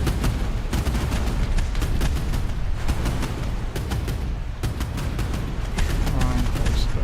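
Naval combat in a boat crew game with a launched acoustic torpedo, heard as a constant roar of battle with repeated sharp gunfire cracks and booms throughout, a voice faintly under the noise.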